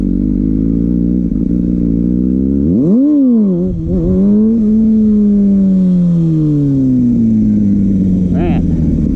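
A Kawasaki ZX6R engine revs while riding, its droning pitch rising sharply, dipping, then sweeping slowly down and back up, loud and close, with wind rumble underneath.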